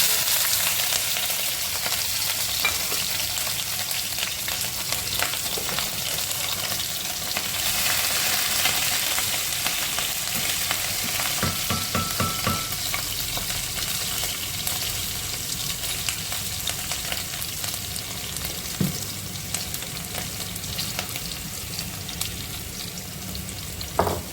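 Green chillies fry in a pan with a continuous loud sizzle while a utensil stirs them now and then, clinking and scraping near the end.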